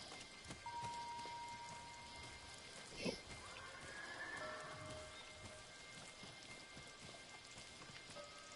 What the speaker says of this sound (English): Settle down, horse.